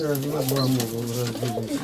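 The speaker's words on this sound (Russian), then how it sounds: "Это там она парит троих голубят." Pigeons coo steadily at close range in a dovecote where a hen sits on three squabs, the soft rolling calls continuous throughout with a person's voice mixed in.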